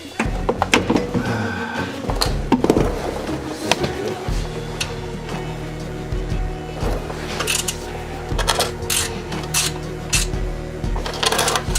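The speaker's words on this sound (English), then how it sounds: "Here, I'm using a 17mm wrench without the one on the other side. It is loosening" Metal clinks, clunks and ratcheting knocks of a 17mm wrench working a bolt loose on the rear lower control arm of a Lexus LS460L, sounding close and irregular against steady background hum.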